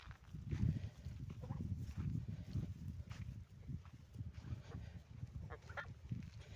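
Geese, Danish Legarth breed about two months old, honking faintly in the distance, scattered calls over a low, steady background rumble.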